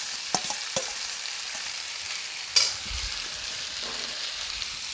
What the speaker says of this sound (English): Now adding my spaghetti to the sauteed garlic and parsley.